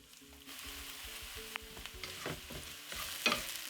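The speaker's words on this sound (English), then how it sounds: "Once the oil is hot, I'm going to add onions. Cook them until they start softening." Onions sizzling and frying in hot vegetable oil in a pan for a lentil stew, a soft steady crackle with occasional stirring clicks, close and fairly quiet.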